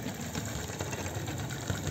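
A 45 mm gauge live steam model of an 1835 locomotive runs on a garden track with a steady, dense mechanical chuffing and rattling that holds even and continuous throughout, fairly close, with no talking.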